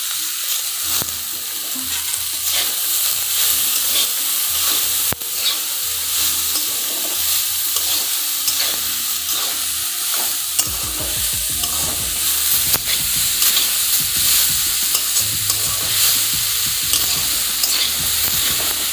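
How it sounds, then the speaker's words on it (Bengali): Potato and eggplant frying in a pan as helencha greens are added, a steady close sizzle and stirring running throughout, louder and busier with scraping clatter in the second half. "আমার ভাজাটা হয়ে গেছে আলু বেগুন, এখন আমি এতে শাকটা ছেড়ে দেব।"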